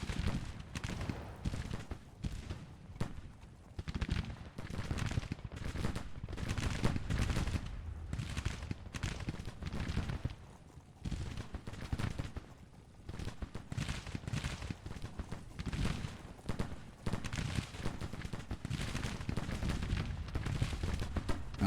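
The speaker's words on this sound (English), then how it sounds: "Just sitting here firing the artillery" Artillery and massed gunfire in the Civil War strategy game Grand Tactician, a continuous dense rumble of booms and crackling volleys over about twenty seconds with no talk.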